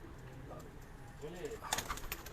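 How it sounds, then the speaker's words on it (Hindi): Soft pigeon cooing, a few low rounded coos nearby from a perched high-flyer pigeon, followed by brief fluttery chirps over a quiet background with faint murmuring. "ये कबूतर बैठा हुआ, यहीं से कंटिन्यू करता हूँ।"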